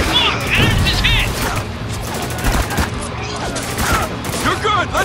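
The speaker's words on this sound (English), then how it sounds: "Look out, grenade!" In Spec Ops: The Line, a grenade blast and bursts of rapid gunfire crack and thud close by in a loud, chaotic firefight, with shouted voices mixed in among the shots.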